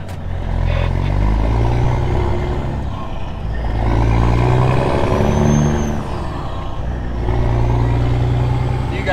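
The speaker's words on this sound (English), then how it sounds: "You guys like how this truck sounds anyway" A truck engine rumbles steadily and loudly, with the low drone rising and falling as it revs up and settles, no talking.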